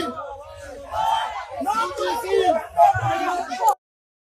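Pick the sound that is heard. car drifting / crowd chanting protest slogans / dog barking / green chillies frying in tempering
crowd chanting protest slogans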